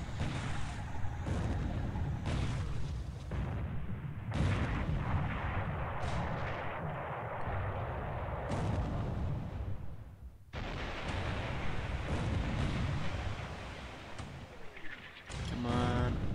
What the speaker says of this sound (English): A 6-inch gun hit on the Yoshigara